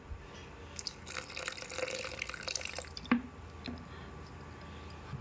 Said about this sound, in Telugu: ఇప్పుడు మనం కొన్ని వాటర్ యాడ్ చేసుకుందాం